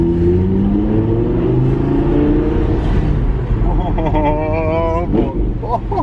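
Stock exhaust of an Audi R8 V10 convertible in sport mode, revving loud and close for several seconds, with the engine note rising and falling in a few throttle blips toward the end.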